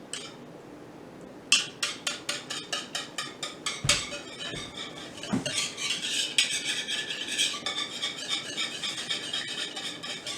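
A whisk scrapes rapidly against the sides of a pot of thickened banana pudding mixture, metal clinking in quick even strokes close by, starting as distinct rhythmic taps and blurring into continuous stirring.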